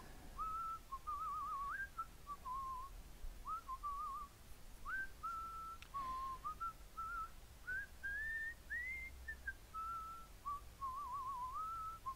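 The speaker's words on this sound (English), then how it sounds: "Nice whistling" A lone melodic whistled tune from Monkey Island 2 Special Edition plays in short, wavering phrases with brief pauses, clear and fairly close against a quiet background.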